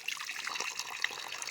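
Water running from a tank pipe outdoors, a soft steady trickling splash with faint gurgles, continuous and fairly close, with no voices.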